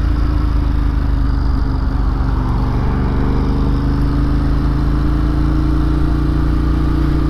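Motorcycle engine on a night ride into town: a loud, steady, close drone that holds at an even pitch throughout, with no talking.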